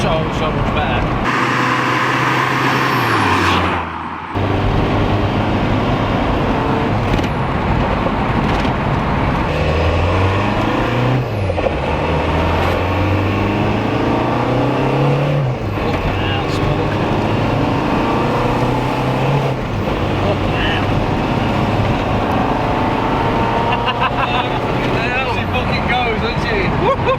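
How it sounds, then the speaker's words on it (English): A 1983 VW Mk1 Jetta fitted with a PD130 diesel engine drives along, its steady, loud engine drone rising and falling in pitch as it accelerates and eases off over road and cabin noise. "that is Sam's 1983 Mark 1 Jetta"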